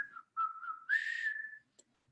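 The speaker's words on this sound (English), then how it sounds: "whistling actually helps release that stress" A person whistles a short, breathy tune of three notes, the last one held and rising slightly before trailing off, heard alone and close in a quiet room.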